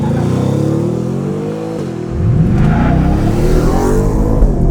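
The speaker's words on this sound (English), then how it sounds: "let's do a little bit of a launch here." Ford Raptor R pickup truck with a 700 hp engine launching from a stop, the engine loud and close, dipping briefly and then rising in a strong revving pull.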